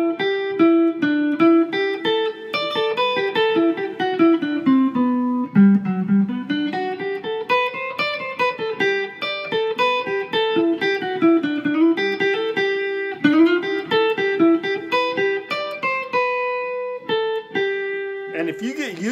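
A guitar plays a melodic phrase in a D shape with open phrasing and skipped notes, clear single notes ringing one after another in a steady run, close and alone.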